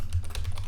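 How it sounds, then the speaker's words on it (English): Computer keyboard typing: a quick burst of five or six close, crisp key taps in an uneven rhythm, with no voice over them. "I'm just making something up, thinking and typing."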